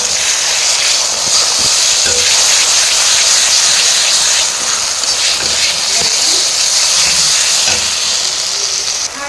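Masala of tomato, ginger, garlic and turmeric fries in hot oil as a steady loud sizzle and hiss, close up, with faint stirring scrapes beneath.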